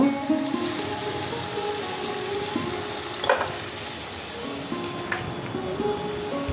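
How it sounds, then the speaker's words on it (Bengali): Tomato sizzles steadily as it fries in a pan and is stirred, part of a Bengali pumpkin and ridge gourd dal chhokka, with occasional soft scrapes of the spoon over a constant hiss. "একটু টমেটো দিলাম ভালো করে নাড়াচাড়া করব"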